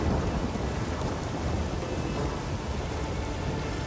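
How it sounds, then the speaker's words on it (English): Rain and thunder in The Witcher 3 on Skellige: a steady, dense downpour hissing on surfaces with a deep continuous thunder rumble underneath, no voices. "It's raining."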